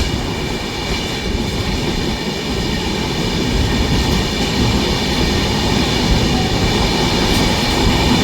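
An express train runs on the Indian railway line between Howrah and Bolpur, a loud, continuous roar of wheels and rushing air from close by with no voices.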